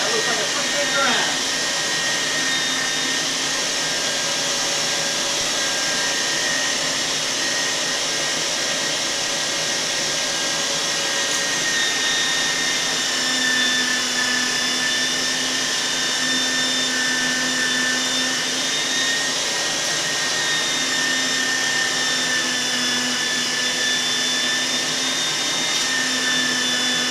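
A meat grinder runs steadily at close range, grinding venison for homemade sausage, in a loud, continuous motorized whine that holds unchanged throughout with no breaks.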